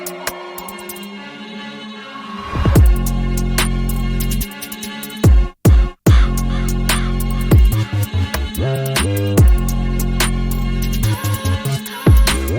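A drill beat plays loud and close, with heavy sliding 808 bass, crisp hi-hats and a melodic sample, broken by a couple of abrupt drop-outs before the pattern resumes.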